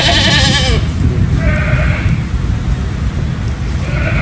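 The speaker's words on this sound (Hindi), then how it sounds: "जैसे ये बकरी खड़ी है सामने" A horned goat kept among young goats, some recently dehorned, bleats loudly and close by, with a long wavering cry at the start and shorter calls following over steady outdoor background noise.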